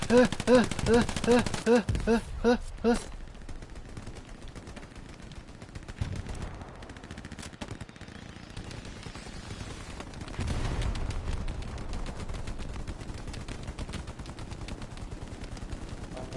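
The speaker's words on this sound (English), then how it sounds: "I hear gunshot." Bursts of rapid gunfire in the PS5 game Hell Let Loose, sharp clustered shots early on, then scattered distant pops and rumble, with faint voices at times.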